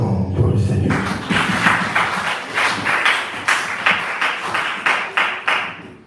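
A church congregation claps in steady rhythm during a French-language worship service, a dense run of close, even hand claps with some low voices and thumps mixed in, growing sharper toward the end.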